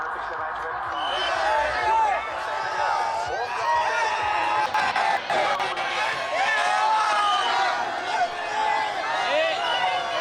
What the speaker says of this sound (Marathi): ही सगळी तरुणाई आहे जी पुण्यातल्या एफ सी रोडवरती उतरलेली आहे आणि जल्लोष करत आहे